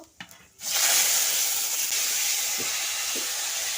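Chopped tomatoes drop into hot oil in a wok already holding torn dried red chilli and panch phoron for a grape and tomato chutney, giving a few soft clicks, then a sudden loud, steady sizzle that keeps hissing.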